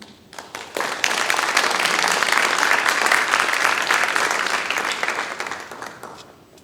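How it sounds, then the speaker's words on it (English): Audience at a National Honor Society induction ceremony breaks into applause, swelling quickly after a quiet start, holding as a steady dense clatter of many hands, then tapering off toward the end. "Please give yourselves a round of applause."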